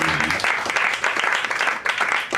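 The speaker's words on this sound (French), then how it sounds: "On l'applaudit." Audience at an evening spoken-word performance applauding a performer, a dense, steady patter of many hands clapping, fairly close and continuous for the whole stretch.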